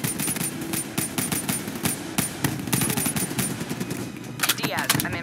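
Video game machine gun fire during a battle against a VTOL aircraft and an APC, rapid continuous bursts of shots over dense combat noise, loud and close throughout.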